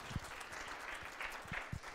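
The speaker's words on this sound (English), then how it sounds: "Applause again." Faint applause from participants at a scouting workshop, a soft patter of clapping with a few heavier thumps, low and distant throughout.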